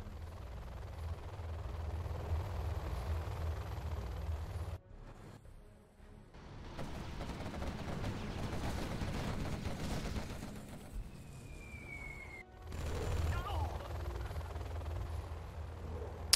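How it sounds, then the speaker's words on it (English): Carpet bombers sweep in during a strategy video game, with a dense rumble of rapid explosions and gunfire rolling through, breaking off briefly twice before the barrage resumes. "Carpet bombers coming in."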